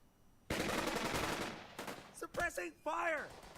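Bursts of suppressing machine-gun fire from the Burden of Command video game crackle loudly for about a second, then short shouted voices and game sounds follow.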